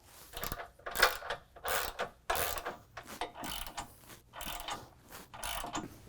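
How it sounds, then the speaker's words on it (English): A hand ratchet clicks in repeated bursts of quick ticks while tightening bumper hardware on the driver's side of a Jeep JL, the strokes close and moderately loud with short pauses between them. "Now we'll go back over to the driver's side and tighten up that hardware."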